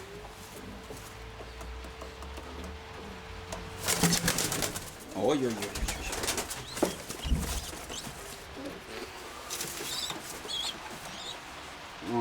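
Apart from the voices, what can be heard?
pigeons cooing and flapping wings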